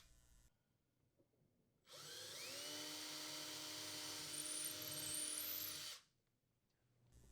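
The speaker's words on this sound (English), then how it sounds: "Using a 1/8 inch diameter drill bit, drill the holes where marked" A power drill with a 1/8 inch bit spins up and runs steadily for about four seconds, whining as it bites through material while drilling holes for a gas range anti-tip bracket, then stops, close by with no talking.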